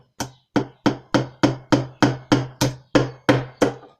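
A hammer drives a nail into a wooden planter box during a kids' woodworking project, with about eleven sharp, evenly spaced blows in a steady rhythm, close and loud, with no talking.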